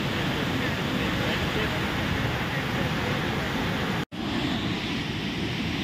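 Steady, loud broadband rush of a waterfall's falling spray at hidden falls in Manali, continuous and close, briefly cut off near the end.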